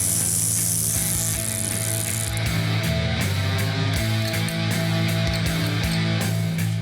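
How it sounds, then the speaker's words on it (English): Ratchet tightening an axle nut on a 1971 Dodge Super Bee: loud, close, rapid clicking of the pawl in repeated bursts as the handle swings back and forth, alone without speech. "So I'll put that on after I tighten this axle down."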